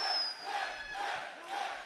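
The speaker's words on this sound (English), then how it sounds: "I ain't never seen the people cheer for Johnny Gargano like this since 2019." A wrestling arena crowd at a WWE NXT show roars and cheers for Johnny Gargano, a broad sustained wash of many voices rising and falling in waves, with a few shrill whistles cutting through.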